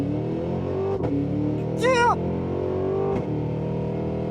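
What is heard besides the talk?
2026 Cadillac Escalade V accelerating hard in 0 to 60 launch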